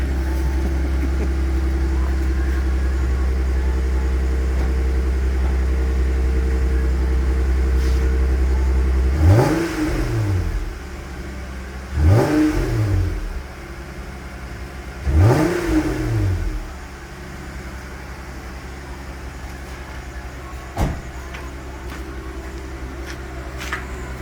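A Jeep Wrangler fitted with a Rough Country axle-back exhaust idles loudly, then revs three times in quick sharp bursts, each rising and falling, before settling back to a lower idle; close by and without voices.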